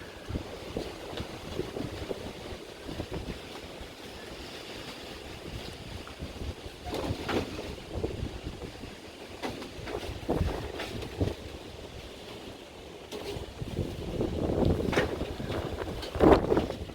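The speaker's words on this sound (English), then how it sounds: "Oh, it's a very strong wind." Strong tropical wind roars and buffets against the microphone in uneven gusts, with a louder rush near the end and no talking.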